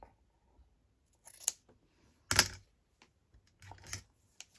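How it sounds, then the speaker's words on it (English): Scissors snipping material while repairing a broken book spine, a few quiet, close crisp cuts spaced irregularly with near silence between them and no talking. "And trim that, cut that off."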